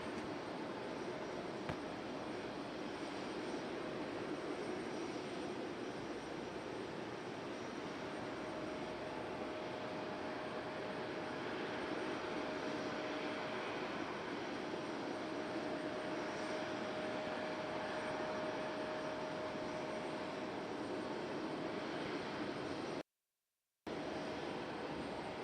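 An Airbus A350 airliner landing at Raleigh-Durham airport, heard as a faint, steady distant jet roar with a thin high whine, fairly quiet throughout and briefly cut out near the end.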